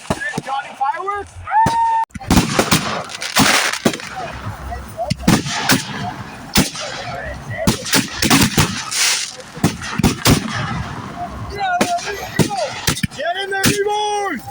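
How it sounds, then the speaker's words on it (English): Fireworks show explosions, loud sharp bangs and booming bursts in irregular clusters, some rapid and some spaced apart, with people's voices heard between the blasts. "Fireworks?"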